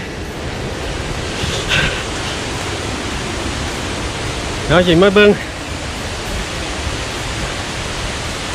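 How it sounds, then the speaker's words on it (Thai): Steady, dense roar of rushing water at a waterfall in Na Yung–Nam Som National Park, Udon Thani, Thailand, fills the whole clip, with a brief voice speaking over it near the middle. "ตอนนี้ได้ยินเสียงน้ำชัดเจน"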